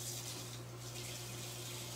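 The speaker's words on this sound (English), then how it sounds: "I'm gonna go ahead and start with some water for all these dishes over here." A kitchen faucet running water into a sink for washing dishes, a steady hissing stream with a low hum underneath, alone and continuous.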